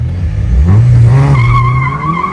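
A souped-up car races a Lada Zhiguli, its engine revving loud and close, climbing in pitch, while the tires squeal in a long rising screech toward the end.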